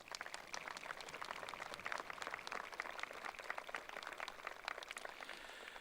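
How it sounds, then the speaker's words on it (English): Very faint, distant applause at a high school graduation ceremony for retiring teachers; scattered individual claps pop out of a thin, steady patter that continues for about six seconds. "Please give them a round of applause."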